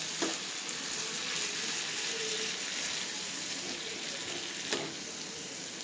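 Green chillies frying in melted butter in a pan, a constant dense sizzle with a couple of sharp scrapes from stirring, close and steady throughout.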